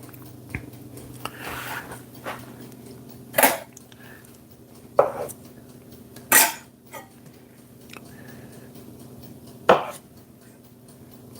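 A knife slices slivers of butter over a poached egg breakfast on sourdough, several sharp separate cuts spaced a second or more apart against a quiet kitchen background.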